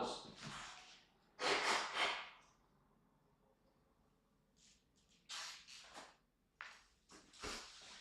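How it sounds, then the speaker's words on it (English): A sick man blows his nose in several forceful, breathy bursts separated by pauses. The sound is close to the microphone and quiet overall. "blow my nose"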